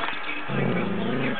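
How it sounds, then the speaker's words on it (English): A small dog gives a low, sustained growl close to the microphone, one continuous rumbling stretch lasting about a second. "With her little super mean growl, because she's so tough."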